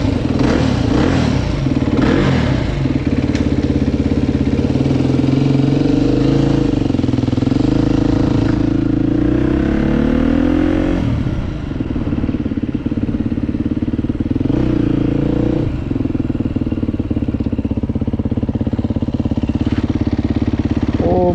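Motorcycle engine just started after a service, running loudly and steadily close by, with repeated rises and falls in revs and a constant mechanical clatter.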